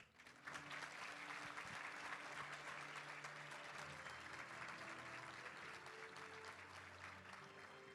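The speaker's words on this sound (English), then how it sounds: "let's give a big round of applause for Jakai Hunter" Steady audience applause fills an awards luncheon hall after a high school football honoree from the Arkansas School for the Deaf is introduced, the clapping dense and sustained at moderate distance for the whole stretch.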